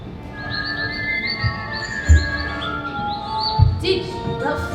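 A caged bird chirps in a high school stage production, a run of rapid high whistled tweets near the start and again later, with stage thumps and faint voices in the background.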